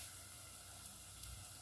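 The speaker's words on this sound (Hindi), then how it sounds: "लहसुन अदरक का पेस्ट है 1 टेबलस्पून, शामिल कर देंगे। 2 मिनट तक हम लहसुन अदरक को भून लेंगे।" Ginger garlic paste with onions sizzling in a pan for a peas and egg curry, a steady soft hiss of frying oil running evenly throughout without talk.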